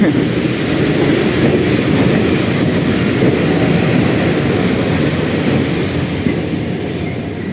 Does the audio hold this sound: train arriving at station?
yes